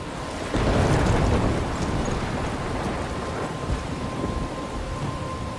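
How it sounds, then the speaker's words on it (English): A thunderstorm in the video game Life Is Strange: steady heavy rain hisses throughout with a low rumble of thunder swelling in early on, loud and continuous with no talk. "I'm trapped in a storm?"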